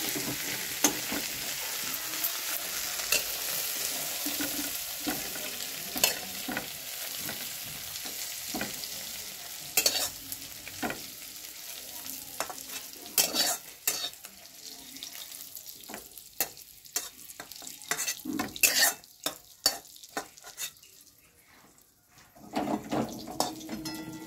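Egg stir-frying in a pan, a loud ongoing sizzle broken by repeated scraping and stirring strokes, easing off briefly near the end before resuming.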